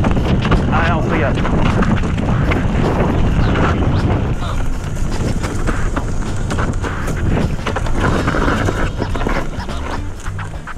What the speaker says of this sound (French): Et il y a beaucoup de vent aussi